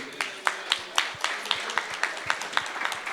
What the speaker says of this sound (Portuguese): palmas para o Magrini